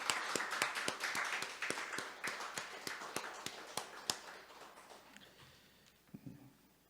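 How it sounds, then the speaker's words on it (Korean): Church congregation in Nare giving a round of applause, sparse individual claps ringing out clearly at first, then thinning and fading toward the end. "우리 하나님께 영광의 박수를 다시 한번 드리겠습니다."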